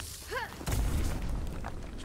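A deep, rumbling boom from an explosion in the video game Asterigos: Curse of the Stars. It rolls in after a short rising tone and lingers as a heavy low roar over the rest of the moment.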